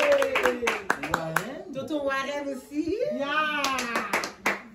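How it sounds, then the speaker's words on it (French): A few people clap their hands at a baby welcome party, sharp bursts of clapping that start and stop between stretches of lively talk and a voice. "On applaudit pour eux."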